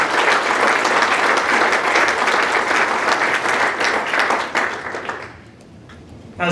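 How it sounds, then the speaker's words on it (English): An audience at an awards celebration applauds steadily and loudly for several seconds, the clapping thinning out and fading toward the end. "Let's have another round of applause for all of the superstars"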